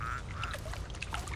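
Duck-like quacking from a creature in the horror video game The Cursed Forest, several short nasal calls spread across a steady background hum, fairly close and moderately loud.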